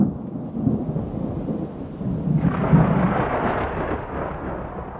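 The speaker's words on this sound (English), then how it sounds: "Spring thunder calls out and awakens Yangmingshan from its winter torpor." Spring thunderstorm over the Yangmingshan forest: deep rolling thunder rumbles on and off over steady rain, swelling louder halfway through as the downpour intensifies, with no voices.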